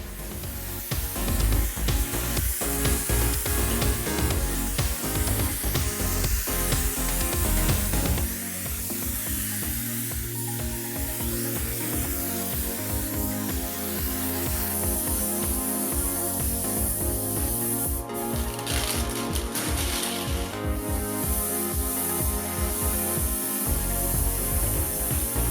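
A spray gun at reduced pressure applies a Cromax CC6500 clearcoat fade-out, heard as a steady hiss that carries under loud background music.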